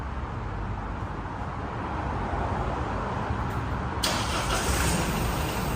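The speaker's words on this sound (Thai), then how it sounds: "อันนี้สตาร์ทเครื่องยนต์ภายนอกรถด้วยรีโมทนะคะ" An Isuzu D-Max pickup's engine, remote-started from outside the truck, cranks and catches about four seconds in, then settles into a steady idle over constant background noise.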